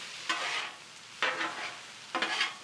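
Pork belly yakisoba stir-fries on a griddle top, a continuous sizzle swelling in three bursts as the noodles are tossed and turned.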